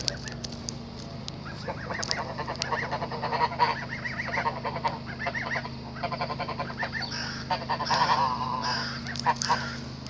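A goose honks repeatedly in short nasal bursts, fairly close, over a steady low hum, with other fowl calling faintly around it at a farm pond.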